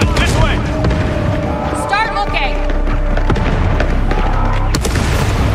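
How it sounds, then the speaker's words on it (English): Fireworks burst in the video game Star Wars Outlaws, with booming explosions and crackles set against music and a busy game soundscape, and a voice speaks briefly. "Starting the fireworks."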